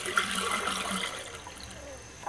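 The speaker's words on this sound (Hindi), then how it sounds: "2 ग्लास मैंने पानी डाल दिए।" Water poured into a kadai (wok) on a lit stove while making aloo bukhara (plum) chutney, a steady splashing, trickling pour at close range with no talk.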